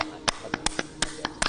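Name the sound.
hands clapping hard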